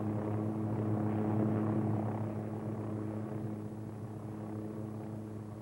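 OH-6 light helicopter in steady straight-and-level flight, a continuous buzzing rotor and engine drone with a smooth, even tone, heard alone at moderate distance.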